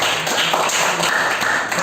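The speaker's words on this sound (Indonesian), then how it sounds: "boleh tepuk tangan untuk kelompok" Classroom group applauding a presenting group during a teaching practice session, with dense, steady clapping from a small class filling the whole moment at close range.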